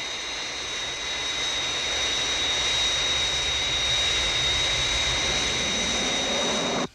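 Jet engines of a Fireflash airliner roar steadily on final approach, a loud, continuous broadband rush with a high whine that swells slightly and cuts off abruptly at the end.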